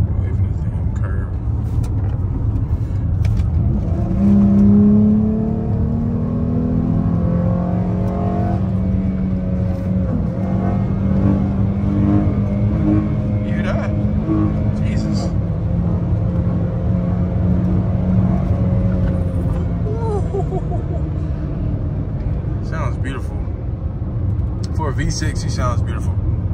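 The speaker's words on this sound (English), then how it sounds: "I like the way this car sounds when it starts pulling away, even in drive." A V6 car accelerates and pulls away in drive, a steady low engine drone rising and falling in pitch as it gains speed, heard from inside with a person talking over it throughout.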